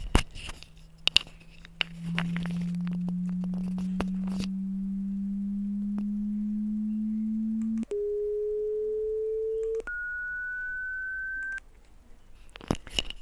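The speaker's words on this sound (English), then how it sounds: "this is how a sine wave look like, and this is how it sounds like" A pure, low sine-wave test tone hums steadily and glides slowly upward, then jumps in clear steps to higher pitches before stopping, with faint clicks around the edges.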